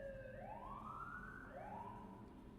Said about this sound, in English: Do you hear that siren?